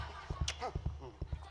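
Paired, rhythmic clip-clop thumps mimic a cowboy riding a horse during a Sundanese topeng mask-dance performance. Six fairly loud beats fall in pairs, with voices and stage sounds around them.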